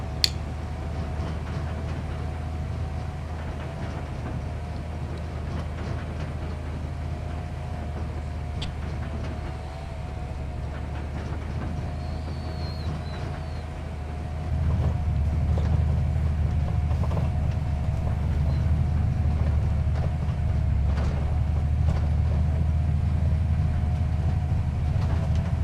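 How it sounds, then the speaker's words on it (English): A tractor engine in Farming Simulator 25 during a red beet harvest drones with a steady low rumble and hum, which gets louder and heavier partway through, with no talk over it. "Noisy engine."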